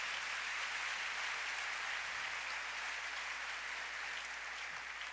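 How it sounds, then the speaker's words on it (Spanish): A church congregation applauds steadily, a broad wash of many hands clapping at a distance, continuous and even with a faint low hum beneath. "¿Cuánto le da un aplauso al Señor por esa vida de Job?"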